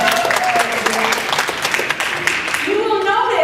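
An audience breaks into applause during a workshop, a dense burst of clapping close at hand that fades toward the end as a voice speaks over it.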